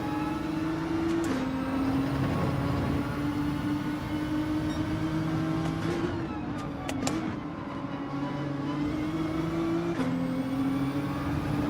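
Lamborghini and other race cars in Gran Turismo 7 roar past in a continuous, loud engine drone whose pitch rises and dips as they shift and corner, with no talk.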